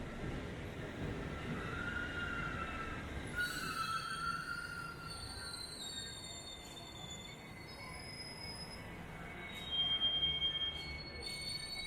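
A London Overground Class 710 electric train pulls away, its wheels squealing in high, drawn-out tones over a steady rolling rumble heard from on board, with no one speaking.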